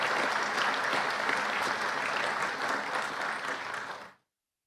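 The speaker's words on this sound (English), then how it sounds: "Let's give them all a round of applause." An audience at a police department promotion ceremony applauds steadily for about four seconds, a dense, even wash of clapping that then cuts off abruptly into silence.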